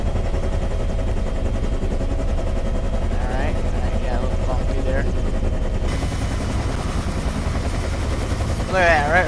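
A Bell UH-1 Huey helicopter in a flight simulator game sets down in a landing, its steady rotor and turbine drone filling the clip. A voice talks over the constant, loud engine noise.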